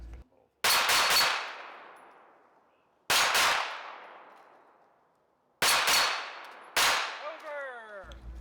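An iron sight pistol fires at steel spinner targets in an outdoor shooting competition: four loud, close gunshots, some doubled into quick pairs, each followed by a long ringing decay and a metallic clang from the hit steel.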